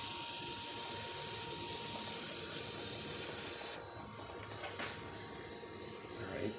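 A close, steady hiss of spraying water rinsing the engine of a 2021 Chevy Tahoe police vehicle for several seconds, then it cuts off, leaving quieter dripping and rinsing sounds.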